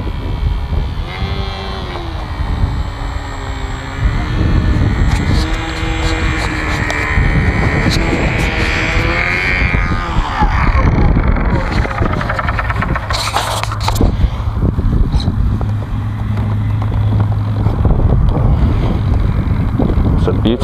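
A Dynam Waco 4-cell radio-controlled model plane flies past outdoors, its electric motor whining and shifting in pitch as it swoops, loud over wind buffeting the microphone, with people talking and cheering.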